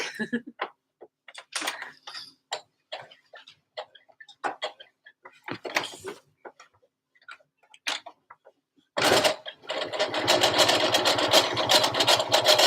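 A sewing machine stitches a dress for a Wild West party. A few seconds of scattered close clicks and taps give way to a steady, fast, rhythmic whirring run that holds to the end.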